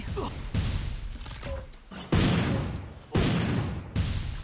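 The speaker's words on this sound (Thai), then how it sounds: "ตึงจัดระเบิดโหดมาก" Explosions in the shooter video game Free Fire: a series of loud, broadband blasts with rumbling tails, the strongest around the middle and near the end, over steady in-game background noise.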